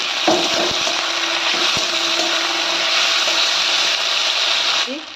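Drumstick stems and tomatoes are stirred in a frying pan with fried onion and chilli, giving a loud, steady sizzle with a few scraping knocks near the start.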